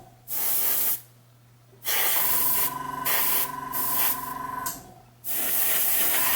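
Airbrush spray from an Aldi air compressor and paintbrush kit painting a diecast Dinky 170 Ford Sedan: five close, loud bursts of hissing spray of varying length, separated by short pauses with a faint compressor hum.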